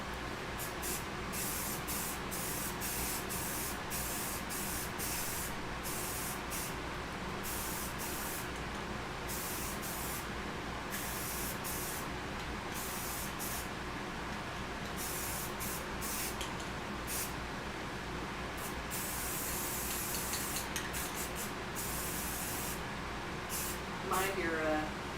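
Steady hiss of a spray can applied continuously during mask making, loud and unbroken throughout with brief pulses, as voices talk faintly underneath.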